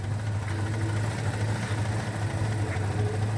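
A 1963 Rover 110 idles at a classic car sale, its engine ticking over with a steady low hum and even, continuous throb, close and moderately loud with no change in pace.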